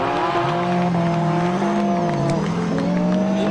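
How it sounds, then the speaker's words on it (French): A BMW E46 drift car at a drift competition holds a loud, sustained engine note with shifting revs and tire squeal, heard steadily and close throughout. "Et c'est un arrêt du drift pour Frédéric Adam."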